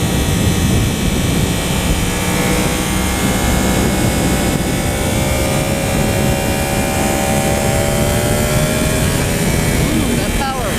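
A 2015 Yamaha R1 sport motorcycle pulls hard under acceleration, its engine a loud, continuous roar with rising tonal lines as revs climb, steady and close throughout.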